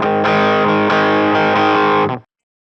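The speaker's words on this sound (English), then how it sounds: "Then you've got this other chugging along rhythm with the power chord." Distorted electric guitar chugs a power-chord rhythm for a song, dense and loud with steady palm-muted pulses, ringing out briefly before cutting off, with no talking.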